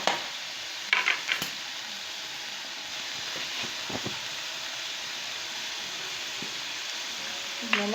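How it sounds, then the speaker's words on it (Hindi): Spices being stirred and mixed into a mashed lentil and potato-spinach curry in a cooking pan, a steady low sizzle and hiss with a few scraping strokes of a spoon, close by and alone. "इसको पूरा मिक्स करेंगे, मसाले पूरे मिक्स होने चाहिए।"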